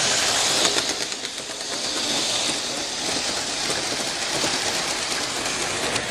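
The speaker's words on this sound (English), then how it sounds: "Let's wait for this train to go by." A model train on a club layout clatters steadily along its track nearby, a continuous rattling rumble with a light rhythmic clicking throughout.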